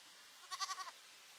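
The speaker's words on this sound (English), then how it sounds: "A young lost goat wanders into camp, attracted by the fresh vegetation around the pool." A young goat bleats once in a jungle camp, a short wavering cry of several pulses, fairly close over a quiet background.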